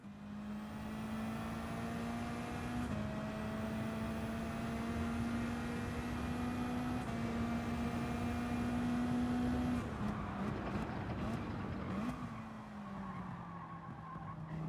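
A race car circles a lap in Gran Turismo 7, its engine droning steadily and loud, pitch climbing and dropping through upshifts. Tire squeal and rougher noise come in toward the end, with no talk.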